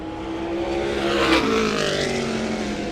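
Race car on a qualifying lap at Caraway Speedway in the SMART Modified Tour, a loud engine sweeping past with a sharp rising and falling pitch around the midpoint, then a steady fading roar.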